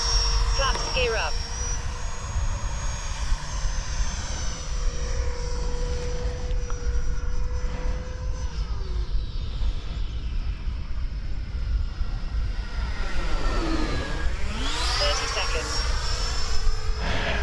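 A Freewing F/A-18 Hornet 90mm RC jet plane on a half-throttle takeoff with flaps, giving a steady, high-pitched ducted-fan whine that holds throughout and swoops in pitch near the end as it passes by.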